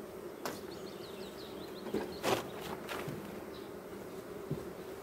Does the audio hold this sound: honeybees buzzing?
yes